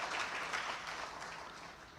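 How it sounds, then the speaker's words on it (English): Audience applause for the speakers at an energy and electricity conference session, a steady wash of many hands clapping at moderate level throughout, with no talk over it. "I'd request all of you to provide a round of applause for all our speakers"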